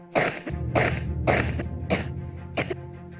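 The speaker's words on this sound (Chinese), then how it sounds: "小孩的咳嗽声此起彼伏" Children cough at a pediatric clinic of Longhua Hospital in Shanghai, five harsh, close coughs spaced in a rough rhythm about half a second apart, the last ones slightly weaker.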